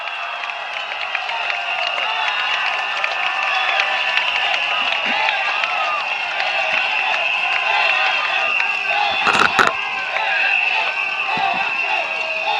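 Large crowd at a Singapore general election rally in Tampines cheering and applauding steadily for a candidate, a dense continuous roar with a brief louder burst near the end, with voices mixed in.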